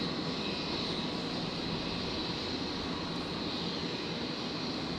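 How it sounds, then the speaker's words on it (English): Jetstar jet airliner taxiing on the runway at Brisbane Airport, a steady distant engine roar and hiss that holds level throughout with no talking. "Jetstar 674 are going to be taxiing on the runway because it's no longer able to turn around."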